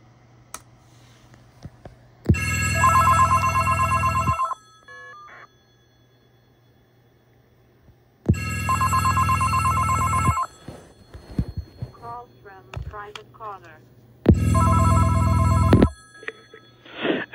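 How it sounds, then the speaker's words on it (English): A telephone line's power ring comes through a speaker on an audio hookup: three loud, steady buzzing ring bursts about two seconds each, spaced several seconds apart, with faint clicks and chirping caller-ID data tones in the gaps. "As you can hear the actual power ring coming through the speaker here, and the actual caller ID coming in"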